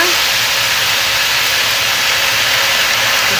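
Turkey pieces sizzle in a hot pan, a loud, steady, dense hiss of frying that holds even throughout, with no talk over it.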